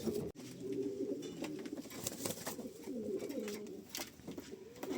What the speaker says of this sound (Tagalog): Ilalagay na natin dito yung mga kalapate, no?